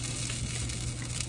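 Food frying in a pan during late-night home cooking, giving a steady, close sizzle and hiss that runs evenly throughout with no talking.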